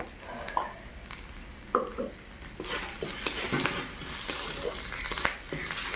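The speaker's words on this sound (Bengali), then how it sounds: "আদা আর একটু রসুন কুচি দিয়েছি ভেজে নেই" Ginger and chopped garlic fry in a pan with a steady close sizzle, broken by scraping stirs and clinks of a spatula, with no voices.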